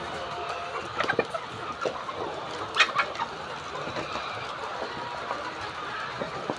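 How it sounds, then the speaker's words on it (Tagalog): Brown Dekalb chickens in a cage-free house peck at a leaf amid soft clucks and scattered taps, with flock murmurs and a low background hum, and someone talking faintly. "Yung dahon na yun o, mayroong naglalaro o. Tinutuka-tuka niya o."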